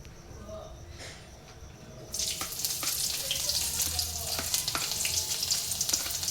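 Chopped vegetables hit a pan over a gas flame turned fully up for chilli paneer. A few quiet clinks come first, then a loud, dense sizzle bursts in and keeps crackling steadily, with occasional utensil taps.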